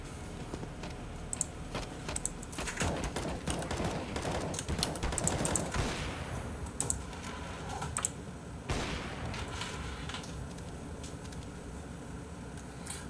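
Gunfire in the video game Valorant, bursts of rapid shots and scattered single cracks spread across the stretch, fairly close and loud, with no talk over them.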